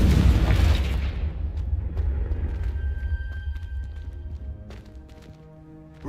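A Confringo spell in a video game sets off a heavy booming explosion that hits loud at the start, then rumbles and decays into a low tail while small debris-like clicks and tones scatter afterward.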